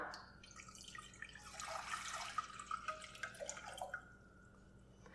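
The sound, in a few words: pouring one litre of water into a pot on the stove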